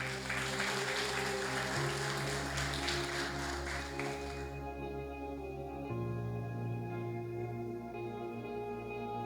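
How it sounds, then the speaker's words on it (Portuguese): Crowd applause at a church service rises over steady music for several seconds, then fades out while the music carries on alone. "Aplauda o Senhor Jesus."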